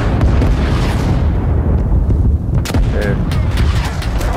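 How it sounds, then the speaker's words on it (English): Artillery shells and gunfire in the Vietnam War shooter Rising Storm 2: Vietnam, a dense, loud barrage of booming blasts and cracking shots with sharp bursts near the end, over voices talking. "Artillery."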